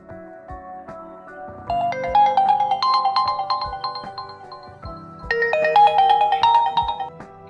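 A melodic phone ringtone plays loud and clear for an incoming call, its tune repeating and getting brighter in a second pass, with no voices.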